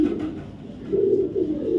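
Pigeons coo in low, throaty rolls, two soft swelling calls rising over a dull, steady room murmur nearby, with no voices.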